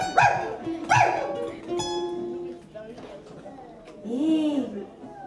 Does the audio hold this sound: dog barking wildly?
yes